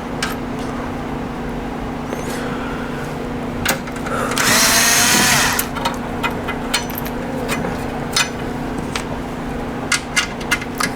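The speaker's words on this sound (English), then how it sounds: "all we have to do is take out the 4 screws at the bottom" Screws come out of a Sansui AU-11000 amplifier module: a short, loud burst of driver whirring amid scattered metallic clicks and handling noises over a steady low hum.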